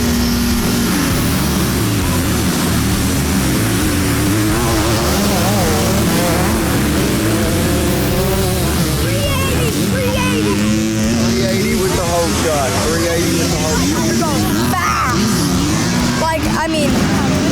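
Motocross bikes racing on a muddy track in the rain, engines droning and revving continuously at moderate distance, layered with steady rain and crowd noise, while a voice comments over the racing.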